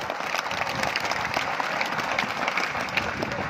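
A large crowd claps steadily throughout at a religious discourse gathering in Depalpur, Indore, forming a dense, even wash of applause with no break.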